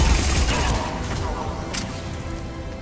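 Gunfire in the sci-fi shooter Mass Effect Legendary Edition, a dense, steady fusillade of shots and impacts during a squad firefight, loud and continuous across the moment with battle noise underneath.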